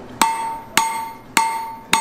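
Blacksmith hammering hot steel on an anvil at a coal forge, four sharp ringing blows at an even, steady pace, close and loud with the metallic ring fading between strikes.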